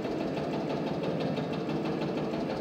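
Lanz Bulldog tractor engine in Farming Simulator 22, a loud, steady, rapid chugging thump of a single-cylinder engine running continuously and close.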